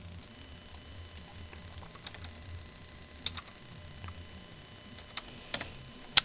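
Sparse, faint key clicks on a computer keyboard tap irregularly against a quiet background, with a few sharper, louder presses near the end.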